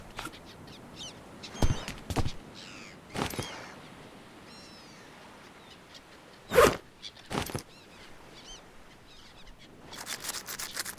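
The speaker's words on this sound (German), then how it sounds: "Kann ich eigentlich Möwen töten?" Seagull calls in the survival video game Stranded Deep: several sharp, squawking cries come in short bursts with pauses between them, over a quiet background.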